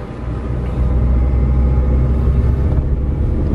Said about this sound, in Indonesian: Ini depan jalan menanjak, kita pakai gigi 3 ini.